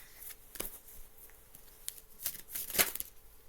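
Tarot cards are shuffled and flipped by hand, giving soft, irregular riffling and papery snaps with a few sharper flicks, close and fairly quiet with no talking.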